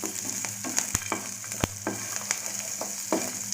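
Chopped green chili and onion sauté in a pan, a steady close sizzle broken by a few sharp clicks and scrapes from stirring.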